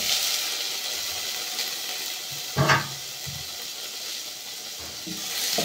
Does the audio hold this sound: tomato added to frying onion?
yes